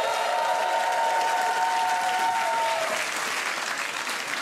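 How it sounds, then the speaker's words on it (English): Studio audience at a UK comedy roast battle applauds the guest judge, steady dense clapping and some crowd noise running the whole time, with a faint held tone fading out partway through. "Let's have another round of applause for tonight's guest judge"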